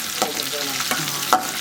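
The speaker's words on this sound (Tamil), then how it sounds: "நல்லா கொஞ்சம் பொரிக்கணும்." Onion, cinnamon stick and fennel seeds frying in oil in a pan for tomato pongal, a steady close sizzle with a few sharper crackles and stirring scrapes, no voices.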